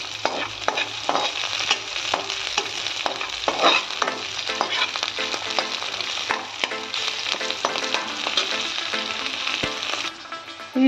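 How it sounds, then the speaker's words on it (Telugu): Onions fry in a pan for peanut chutney, a loud close sizzle punctuated by frequent rhythmic stirring scrapes and clicks, easing slightly near the end, with no one speaking. "నేను ఒక 2 minutes ఫ్రై చేసుకుంటే చాలు"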